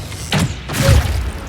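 A shot fired in the video game Baldur's Gate 3, a short heavy thud with a dull impact, followed by a brief rumbling tail, heard alone.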